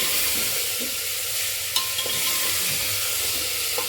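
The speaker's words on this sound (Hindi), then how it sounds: "इस टमाटर को भी हम भूनेंगे" Chopped tomatoes frying and being stirred for lobia (black-eyed bean) curry, a steady close sizzle with a few faint spoon scrapes against the pan, no talking.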